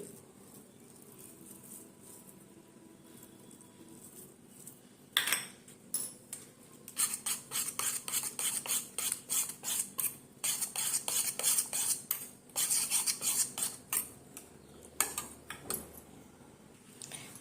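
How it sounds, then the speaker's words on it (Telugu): Paneer is mashed for a paneer omelette with a utensil against a dish, starting quietly, then a long run of rapid, rhythmic scraping and clinking taps, close and fairly loud. "ఈ పన్నీర్ని మనం ఇలాగ మ్యాష్ చేసుకోవాలి"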